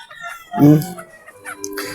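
A chicken being caught lets out a loud, close burst of clucking and squawking that peaks early, then trails off into scattered softer clucks.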